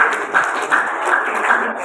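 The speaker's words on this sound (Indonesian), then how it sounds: "Tepuk tangan untuk kita semuanya." Audience at a school talk on religious moderation in Semarang breaks into applause, a steady wash of hand-clapping that swells in regular pulses, with no voices over it.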